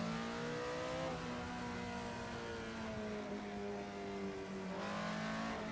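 Old race car in Assetto Corsa on the Nordschleife, driven with an H-pattern gearbox: a steady, moderately loud engine drone with a rising pitch that drops at a gear change and climbs again.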